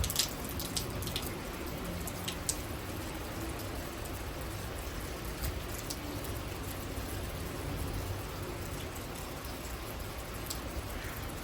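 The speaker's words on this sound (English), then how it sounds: "Just rain and wind." Rain and wind during a thunderstorm with strong gusts in Frisco, Texas: a steady, soft hiss of rainfall with faint drips and gusting wind, continuous and fairly quiet, with no voices.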